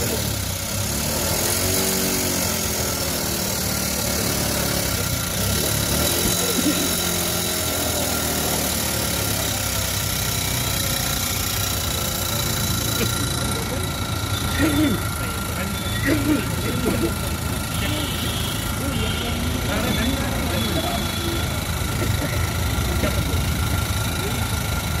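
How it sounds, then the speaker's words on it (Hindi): Car engine running steadily, a continuous idling hum with slight revving variations, with a person talking over it throughout. "इंजन का साउंड भी सुन सकते हैं"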